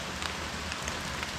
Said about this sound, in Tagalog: Nag-ambon ambon.